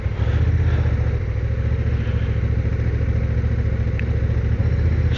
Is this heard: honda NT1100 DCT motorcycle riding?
yes